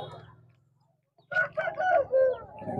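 A rooster crows loudly and close at the Pileru poultry market, a drawn-out wavering call that follows a brief low murmur and a moment of near silence.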